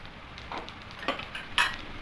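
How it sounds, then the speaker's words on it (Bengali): Whole cumin seeds dropped into a pan of frying dal give a few quick crackling pops and utensil clinks over a faint steady sizzle, close and brief, with no one speaking. "সামান্য একটু গোটা জিরে দিয়ে দেবো"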